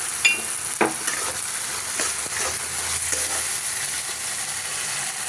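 Mustard oil sizzles steadily in a pan as mourala fish and potato are fried with poppy seed paste for a curry, with a spatula scraping and clicking now and then over the continuous frying hiss.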